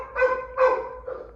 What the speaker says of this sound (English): And now I'm home and you can hear my dog barking.